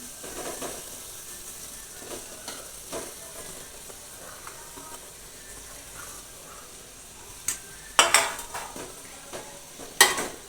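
Chickpeas, peas, carrots and potatoes are stirred into a pan of sizzling ginger-garlic paste for ragda, with a soft, steady sizzle and a few sharp clinks of a spoon against the pan near the end.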